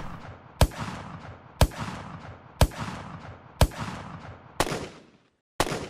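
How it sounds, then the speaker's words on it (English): Distant gunshot sound effect in Unreal Engine 5: six sharp cracks spaced about a second apart, each trailing off in a short rumbling echo, with no voices. "So we've got our far away gunshot."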